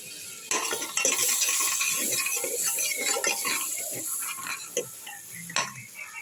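Cashews are roasted in melted butter in a pressure cooker while being stirred, giving a soft continuous sizzle broken by irregular metal spoon scrapes and clinks against the pot, close up and without talk.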